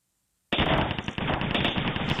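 Rapid automatic gunfire from The A-Team video game bursts in loudly after a brief silence and keeps up as a dense, continuous rattle of shots to the end.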